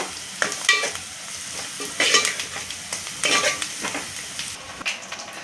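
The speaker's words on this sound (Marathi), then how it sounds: "गरम मसाला पण घालते आहे आणि हे सगळं परतून घ्यायचं" Chili powder and garam masala sautéing in a pan for a Maharashtrian banana-flower stir-fry with dried shrimp, with a steady close sizzle broken by repeated scraping stirs and clinks, with no talk.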